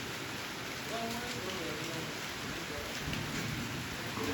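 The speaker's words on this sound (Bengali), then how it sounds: "এইখানে দেখা যাচ্ছে বৃষ্টি করছে, তো হাওয়া বেড়েছে" Steady rain falls with gusting wind in a continuous, even wash of noise, with a faint voice briefly audible beneath it.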